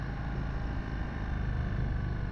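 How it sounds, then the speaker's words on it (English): Steady engine drone from an Indian Chief Bobber motorcycle while riding, a continuous low rumble mixed with wind noise at an even level throughout. "And man, that exhaust note actually doesn't sound too bad."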